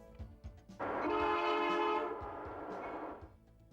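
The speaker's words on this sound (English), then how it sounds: "The Canadian rolled through Calgary in the middle of January for the last time." Via Rail's passenger train The Canadian rolls through Calgary in mid-January, its horn blaring loud and sustained for about two seconds over the rumble and clatter of the moving cars, then fading.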